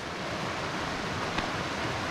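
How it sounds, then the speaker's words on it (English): A small waterfall on a freshwater stream on the Mt Pinatubo trek, a steady broadband rush of falling water, even and moderately loud throughout with no voices. "I think he has a little waterfall there"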